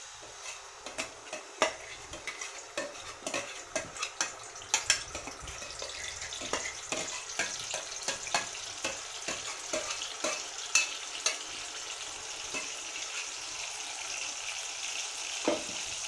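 Green masala paste frying in oil for baingan bharta, stirred with repeated spoon scrapes and clinks against the pan over a soft continuous sizzle, fairly quiet and close, with no one speaking.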